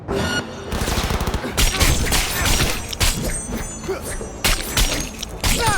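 Video game gunfire in Cyberpunk 2077 comes in loud, rapid automatic bursts with thuds and shattering impacts, interrupted by short pauses, with some voices mixed in.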